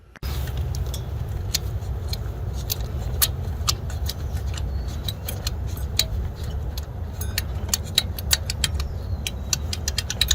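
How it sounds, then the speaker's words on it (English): Toyota Camry engine with a low idle and stalling trouble, heard idling as a steady low rumble, overlaid with frequent sharp ticking and clicking sounds. "So I will start the engine"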